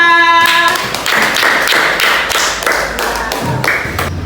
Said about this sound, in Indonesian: Tepuk tangan juga dulu untuk kelompok 2